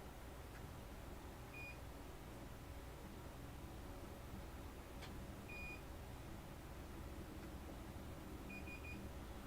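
A continuity tester checks the cable of a retro game console controller, giving three short, faint high beeps spaced a few seconds apart over a quiet background hiss.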